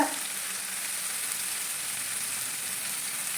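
Shallots and green chilies frying in a pan for a fish curry, giving a steady, even sizzle that holds at one level throughout with no voices.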